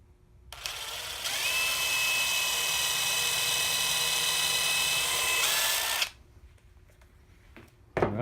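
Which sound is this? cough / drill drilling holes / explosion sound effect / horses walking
drill drilling holes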